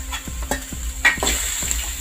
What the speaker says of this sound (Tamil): இப்போ நல்லா நம்ம வதக்கணும்.